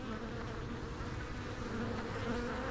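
Dense, steady buzzing of many honeybees swarming close around a beekeeper working an open hive box in spring, a continuous loud drone with no talking.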